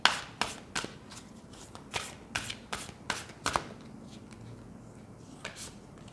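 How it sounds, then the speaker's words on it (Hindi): Tarot cards are shuffled by hand close up, a quick series of crisp riffling snaps and slaps that fade into softer handling near the end, with no one talking. "तो जब तक मैं कार्ड शफल कर रही हूँ"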